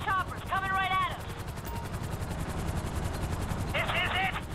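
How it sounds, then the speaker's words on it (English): Merryweather helicopters approach in Grand Theft Auto V, a steady loud rotor drone under voices and game chatter, with bursts of gunfire mixed in. "Three Merriweather choppers coming right at us."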